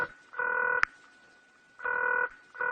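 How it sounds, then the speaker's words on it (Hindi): Telephone tones sound in evenly spaced electronic bursts, two clear steady beeps separated by short silences, with a brief click between them, close and with no talk. "मैं उन्हें जरा फोन करता हूँ"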